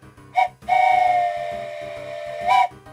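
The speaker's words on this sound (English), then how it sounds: "Here's the next train whistle." Steam train whistle in the video game OpenTTD: a short toot, then a long sustained loud whistle and a final short blast, over a steady chuffing rhythm.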